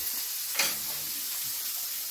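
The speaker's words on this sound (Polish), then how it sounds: "To się ładnie nam smaży." Onions frying in a pan give a soft, continuous sizzle with a brief louder hiss of steam as they are stirred, heard alone without talk.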